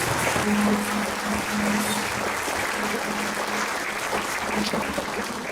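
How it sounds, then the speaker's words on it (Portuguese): A church congregation applauds during a Portuguese-language worship service, producing a dense, sustained roar of clapping that stays loud and even from start to finish, with a faint steady tone underneath and no speech over it. "Vamos aplaudir o Senhor Jesus porque Ele está aqui."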